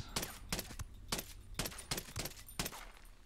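Repeated gunfire in Ghost Recon Breakpoint, sharp loud shots at an irregular rhythm of about six or seven bursts over a few seconds, each one a broadband crack with a short tail, no talk over them.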